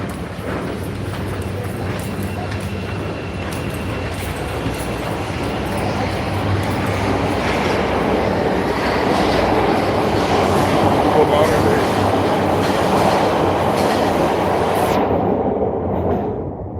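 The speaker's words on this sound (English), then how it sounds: "So I'm down here in the train station." A train rumbles through a station with a steady, loud roar and rattling wheels that builds midway, then cuts off abruptly near the end.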